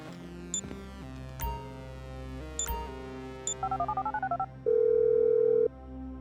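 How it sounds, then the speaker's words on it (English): Phone call being dialed in the game Grand Theft Auto V: a run of quick keypad beeps followed by a steady, held ringing tone, under a soft sustained synth backdrop with no talk. "I'm making the call."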